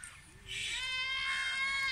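A Rajanpuri cross-breed goat at a goat farm gives a drawn-out, wavering bleat that swells and holds for over a second, fairly close, with faint background noise before it.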